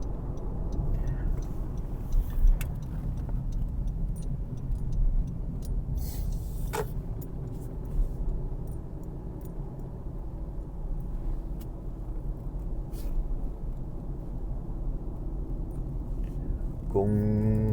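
A car drives steadily at close range for the whole stretch, its low engine and road rumble continuous, with a few faint clicks and small knocks over it and a brief sharp rattle near the end.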